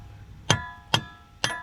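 A hammer knocks on the front axle of a 2008-12 Ford Escape, with the nut left on to protect the threads. Three sharp, ringing metallic clangs land about half a second apart, close and loud against a quiet background.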